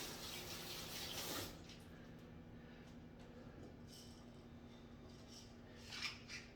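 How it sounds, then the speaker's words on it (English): Hands rinsed under a running kitchen tap make a soft, steady stream of water, faint and distant, with a brief louder splash near the end. "rinse off the hands again so I can handle some things"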